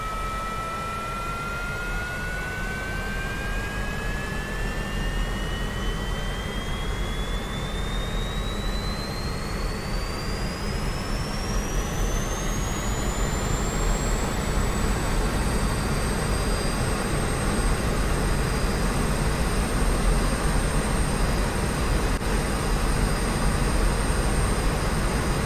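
A jet engine spools up in DCS World, its rising whine climbing steadily over about fifteen seconds and then holding at a high steady pitch over a constant loud roar.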